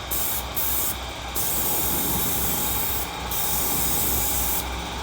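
Spray gun misting wood primer onto trim, a continuous loud airy hiss that runs throughout with brief dips between passes.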